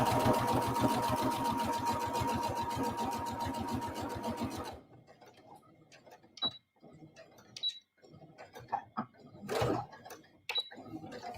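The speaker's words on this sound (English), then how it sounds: "isn't the sound of a sewing machine like amazing?" A sewing machine runs in a fast, steady rhythmic stitching for several seconds, then stops, leaving scattered quieter clicks and rustles.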